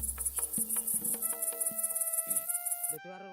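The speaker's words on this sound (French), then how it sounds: "C'est le pays des sauterelles." Grasshoppers chirping in an illustrated audio story, a fast high insect trill pulsing steadily over sparse plucked and tonal music, cutting off abruptly near the end.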